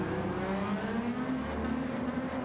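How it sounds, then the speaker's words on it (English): A small Honda car engine in a racing video game, at Interlagos, hums and revs in a steady, high-pitched drone, sounding slightly distant and continuous throughout. "listen to that little Honda revving that engine"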